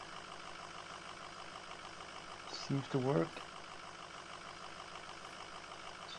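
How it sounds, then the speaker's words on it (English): Ford F350 Power Stroke diesel engine idling in the Farming Simulator 20 video game, a steady low rumble with a brief louder burst in the middle, under a short spoken remark. "It's actually a power stroke engine here."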